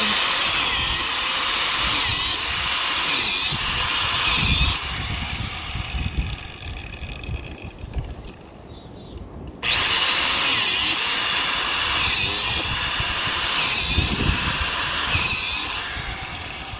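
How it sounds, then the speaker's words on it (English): Power drill boring holes into a hardwood log for shiitake mushroom cultivation, loud grinding whine with a rising and falling cyclic pattern as the bit cuts, easing briefly midway before resuming at full strength. "I'll now continue drilling."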